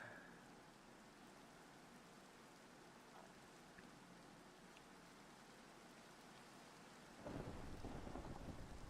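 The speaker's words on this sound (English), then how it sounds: "It's actually coming a storm now." A Minecraft thunderstorm with steady rain hiss, faint and even, until a deep rumble of thunder rolls in near the end and fills the low end.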